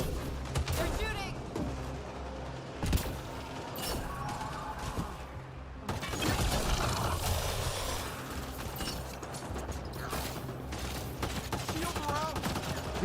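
Enemy gunfire in Mass Effect Andromeda multiplayer: rapid bursts of automatic shots and sharp impacts crackle throughout, with a louder stretch of sustained firing in the second half and a voice talking over the fight.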